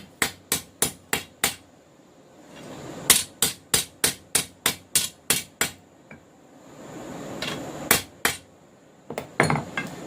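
Rhythmic hammer blows ring out on an anvil horn as a cable Damascus knife blade is forged, sharp metallic strikes in quick bursts of five to six with short pauses, close and loud, no talk.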